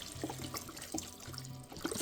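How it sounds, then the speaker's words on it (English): Chicken broth pours into a pot of sausage, kale and tortellini soup, a soft liquid splashing and trickling with gentle gurgles, fairly quiet and continuous. "we're going to go ahead and add some broth in this"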